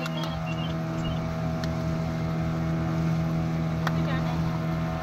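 Steady motorboat engine drone on open water during an hour-long pleasure boat ride at Pondicherry, with wind buffeting the microphone and voices chattering over the constant hum.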